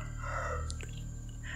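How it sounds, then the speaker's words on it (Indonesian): A village rooster crows before dawn, a single call heard at moderate distance over a low steady background hum, with no one talking. "kalian dengar ayam mulai berkokok"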